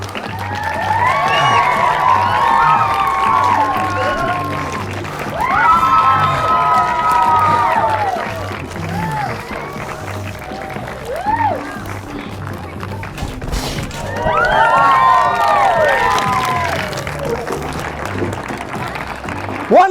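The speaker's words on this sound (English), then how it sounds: "So as soon as I start, everyone clap like crazy" A party audience claps wildly and cheers during a magician's club juggling trick, bursts of applause and excited shouting, with children's voices, swelling and fading several times over a live crowd.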